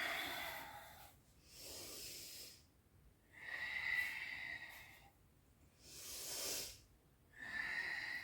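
Slow, deep breaths during a flowing yoga stretch, long soft airy exhales alternating with quieter inhales in an even rhythm, close and faint in a calm, otherwise quiet room.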